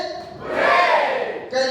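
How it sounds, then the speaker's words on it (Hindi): Party guests at a first birthday celebration shout a loud, ragged group cheer, a short burst of several voices together rising and dropping within under two seconds, close to the recorder. "3 cheers for Simona's birthday."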